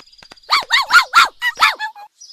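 A dog in an animated Vietnamese folk tale gives a run of about five loud, close, tonal yelping barks in quick succession, with a few faint clicks before and a short high note after.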